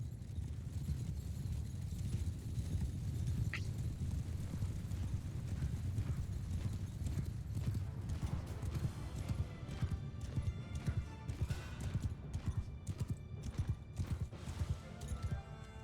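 Dense hoofbeats of many horses galloping in a continuous thundering rumble in the video game Crusader Kings III, with a brief whinny early on and a rising clatter of battle noise later.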